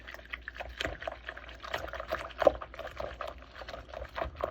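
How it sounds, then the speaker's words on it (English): Soapy water in a container is stirred by hand to soak comic book interior pages, making soft, irregular sloshing and swishing strokes that repeat close up, with no talk over them. "And then what we'll do is we'll stir it up."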